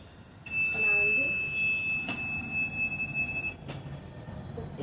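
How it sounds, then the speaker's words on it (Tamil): A smart blind stick's buzzer gives a steady high-pitched tone for about three seconds when an obstacle comes within 50 cm, close and clear over a noisy room with a few clicks. "50 சென்டிமீட்டர் ஏதாவது இருந்துச்சுன்னா நம்மளுக்கு பஸர் ஆன் ஆகும்"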